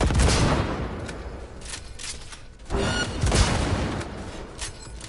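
Sniper rifle fire in a video game produces loud, dense booming shots and a steady rumble that swells after the midpoint, with no clear talk.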